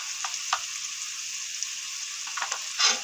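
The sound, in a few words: cumin paste sizzling as it is fried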